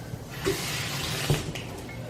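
Tap water runs over fresh cilantro leaves being rinsed for avocado toast, a steady close hiss with a couple of brief splashy bumps as the leaves shift under the stream.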